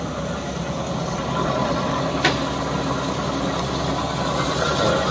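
A Kärcher KM 85/50 W Bp walk-behind sweeper running with its brush spinning, a steady close mechanical engine drone with an even whirring hum and one brief sharp click partway through.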